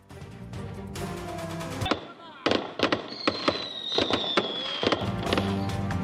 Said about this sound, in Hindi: शानदार आतिशबाजी का मुजाहिरा।